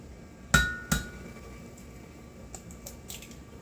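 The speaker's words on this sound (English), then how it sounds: "I'm just going to crack our eggs." Two sharp cracks of eggs against a bowl rim come close together and fairly loud, followed by softer faint taps and drips in a quiet kitchen, for a chocolate cake mix.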